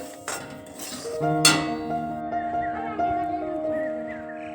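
A metal utensil clinks and scrapes against a pan while semolina is stirred and roasted, with a few bright, ringing taps close by over a quiet kitchen background.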